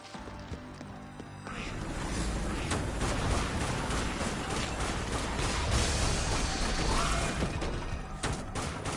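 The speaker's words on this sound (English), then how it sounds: "Grenade." A grenade detonates in the zombie shooter Dead Nation: a sudden loud blast after a quieter opening, then sustained rumbling noise and clatter that stays loud for several seconds.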